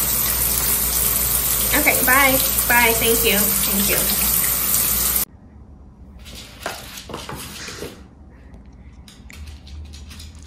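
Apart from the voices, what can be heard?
shower water running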